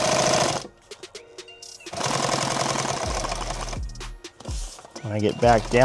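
Sewing machine stitching a modular LBV (load-bearing vest) panel runs in loud bursts of rapid mechanical chatter with brief pauses between runs, and someone speaks near the end.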